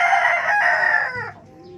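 A gamecock rooster kept as a breeder, one of a flock with a one-eye cold, crows once loudly and close by, a single drawn-out call that tails off into quiet.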